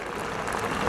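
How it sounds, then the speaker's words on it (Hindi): At a political gathering, an audience claps to welcome a young man. Brief, continuous applause from many hands fills the moment at moderate loudness, with no talking. "आप कृपया जोरदार तालियों से इनका स्वागत करें।"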